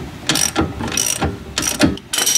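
A ratchet wrench turning a bolt on a 2016 car's suspension, with four short bursts of close, crisp clicking separated by brief pauses.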